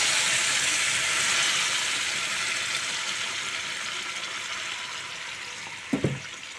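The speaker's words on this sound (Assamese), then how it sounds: "এয়া মই পানী দি দিছোঁ।" Water is poured into a pan of greens frying in oil, leaving a steady hiss of sizzling that slowly fades, with a brief clatter of stirring near the end.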